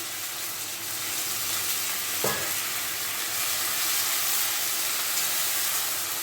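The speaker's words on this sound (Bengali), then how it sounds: "এবারে আমি একটু জল দিয়ে দিচ্ছি।" Water poured into a hot pan while ginger paste cooks for a curry, setting off a loud, continuous hissing sizzle close by, with one brief tap partway through and no talk.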